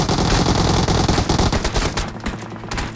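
Rapid automatic gunfire in PUBG Mobile, loud sustained bursts of shots from close range that thin out briefly near the end.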